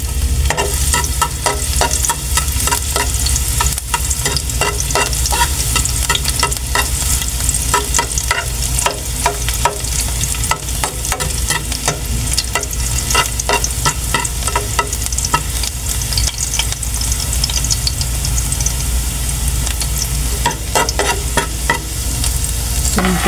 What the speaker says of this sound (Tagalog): mainit na po yung ating mantika. Igisin na po natin sa bawang.